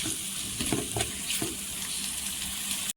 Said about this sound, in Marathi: इथे आहे ना लगेच अद्रक लसणाची पेस्ट टाकायची 2 चमचा आणि तेलावर आहे ना छान असं परतून घ्यायचं